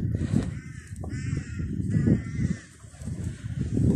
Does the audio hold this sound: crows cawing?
yes